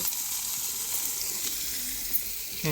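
Mango pieces hit a hot mustard seed, curry leaf and dried red chili tempering, setting off a loud, continuous sizzle heard up close.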